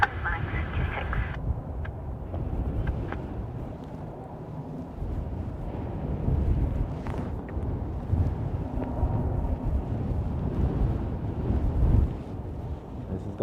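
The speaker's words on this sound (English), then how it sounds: "Wind is 240 at 17, max 26." Strong, gusty wind at Dublin Airport roars across the microphone in uneven surges, with a steady low rumble beneath and the level rising and falling over several seconds.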